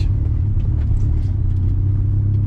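A Honda CRX Del Sol sports car engine rumbles loudly and steadily at speed, a deep continuous roar with no voices.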